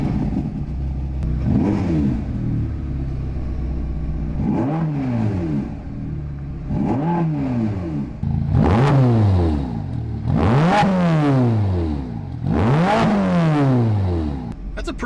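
An upgraded Ferrari Roma's 3.9-liter twin-turbo engine starts and then revs repeatedly, each loud blip sweeping up and falling back over a steady idle, with the later revs sharper and higher.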